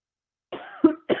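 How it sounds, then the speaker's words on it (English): A woman coughs a few times in quick succession, close and fairly loud, after a moment of silence. "I've had a lot of cough today"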